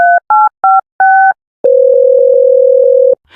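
A telephone line gives four short two-tone dialing beeps in quick succession, then a steady loud dial tone that holds for about a second and a half before cutting off.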